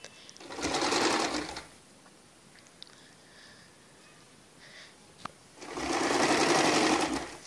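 A sewing machine stitches cloth for a garment neckline in two loud bursts of rapid whirring, separated by a quiet pause with faint handling noises.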